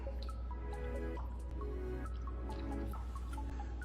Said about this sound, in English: we just fill up the mason jar with the vinegar